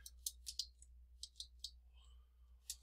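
Keys on a computer keyboard are tapped in a quick, uneven run of about a dozen close, crisp clicks, with a short pause before a final few presses in a quiet room.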